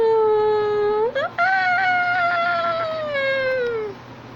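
A cat gives one long, loud, close meow that rises and then slowly falls, with a drawn-out, wailing tone and no other sounds around it.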